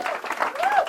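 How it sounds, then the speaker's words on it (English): A live escape-artist show audience claps and cheers as two volunteers head back to their seats, a dense, steady wash of applause lasting under a second with a voice rising over it. "Let's give John and Jesse a big round of applause"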